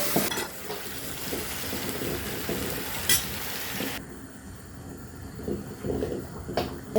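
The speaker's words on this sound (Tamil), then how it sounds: "அதனுள் இந்த இறால் அவ்வாறு அதில் கொட்டி மூடி விடுவோம்" Prawns are tipped into a pan of sautéed onions and fry with a dense crackling sizzle, with a few utensil knocks and a lid clatter near the end.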